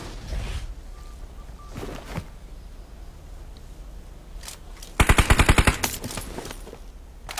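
Gunfire in PUBG Mobile, scattered single shots followed by a rapid burst of about eight automatic rounds, fairly close and loud with no talk.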